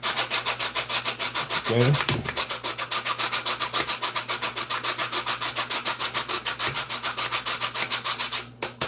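Fruit rasped steadily against a hand grater while preparing Jamaican soursop juice, a fast, even back-and-forth scraping kept up almost without pause, loud and close, with one brief spoken word early on.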